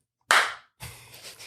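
A single sharp hand clap rings out close and crisp, followed after a short pause by a softer broadband rustle or second slap.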